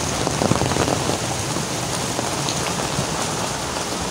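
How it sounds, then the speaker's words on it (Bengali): Steady rain pours down in a village, a dense, continuous hiss of drops hitting surfaces close by, with no voices and no breaks. "এখন শুধু বৃষ্টি হচ্ছে।"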